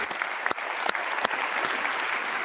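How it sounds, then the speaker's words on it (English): Audience applause at a comedy pop-up show, steady clapping with a few sharper individual claps standing out, filling the whole stretch at moderate level with no talking. "can we have a round of applause for our three?"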